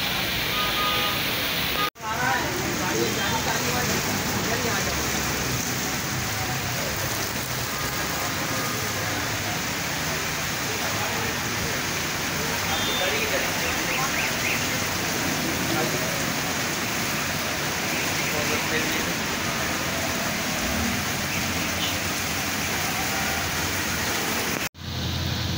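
Heavy rain pours down during a stormy downpour in Karachi, a dense, steady roar of falling water that fills the scene throughout, with brief interruptions near the start and end.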